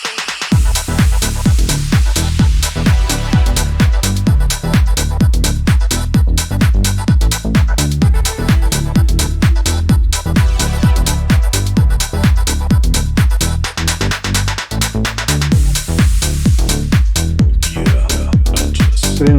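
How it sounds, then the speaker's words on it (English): Deep tech drop with a punchy four-on-the-floor kick, thick bass and a rhythmically gated pad chopping steadily through dense, loud full-mix production, electric piano removed. "at the drop we switch it up, we take away the electric piano and just focus on the gated pad."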